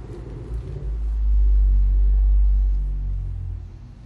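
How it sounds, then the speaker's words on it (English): A car engine rumbles nearby, a deep low drone that swells to a peak and then eases off over a few seconds, with no voices. "Somebody's car is making a noise."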